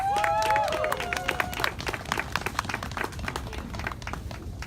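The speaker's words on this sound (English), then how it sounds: "Please give them a round of applause." Applause from a rally audience at a Guantanamo protest rally, clapping under whoops and cheering voices near the start, then settling into steady crowd clapping.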